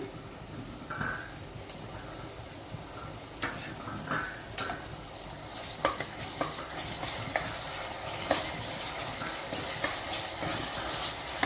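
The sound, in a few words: ginger garlic paste frying with onions and green chillies for mutton curry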